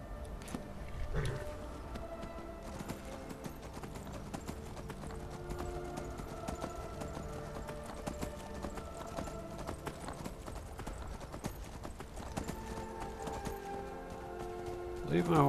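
In Skyrim, a horse's hooves clip-clop in a steady rhythm along a road, joined by a brief whinny, with game music and ambient sounds behind and a voice speaking over it.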